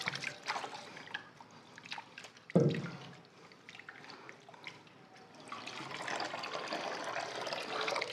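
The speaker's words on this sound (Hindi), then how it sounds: "अब दूसरा पाँव धोएंगे, अच्छी तरह से जो है वो दोनों पाँव इस तरह धो लें" Water splashes and trickles while feet are washed during wudu in a washroom, with soft intermittent drips, one sharper splash midway and a steadier running flow toward the end, fairly faint and close.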